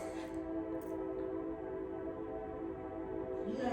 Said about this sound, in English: I learned that is a train that goes by